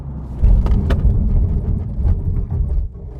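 A 2025 Maserati GranTurismo Trofeo braking hard from 100 km/h to a stop: a loud, deep rumble of tyres and road noise inside the cabin that holds steady for about three seconds, then drops off as the car halts.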